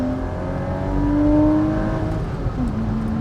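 A Porsche 986 Boxster engine pulls at full throttle toward 6,000 RPM, a steady close drone with a rising whine that swells mid-clip and then eases, no voices over it.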